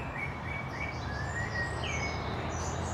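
Birds sing in the woodland of Sheringham Park with several thin chirps and whistles over a loud, steady wash of outdoor noise, with no voices.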